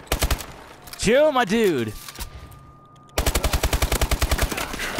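Rapid automatic gunfire in a video game rattles in loud, close bursts, then stops for a whistling, warbling sound effect before a second long burst of steady shots; a player speaks briefly over it.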